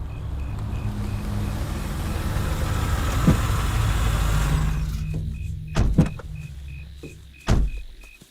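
A car idling with a steady low engine hum and a power window running. The engine noise drops away, followed by a few sharp door thumps as people get in, heard close with no talking.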